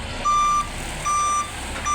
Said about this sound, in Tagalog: Yung truck ng Sunmade.